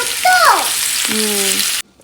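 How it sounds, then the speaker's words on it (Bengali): Chillies dropped into a hot pan give a loud, close burst of frying hiss lasting under two seconds before it cuts off abruptly; some tonal squeaks sound over the sizzle and no one speaks. "সেই একই প্যানে আমি লঙ্কা নিচ্ছি এরকম ছাড়া ছাড়া করে ভাজা করে নেব"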